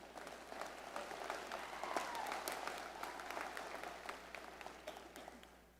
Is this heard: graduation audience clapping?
yes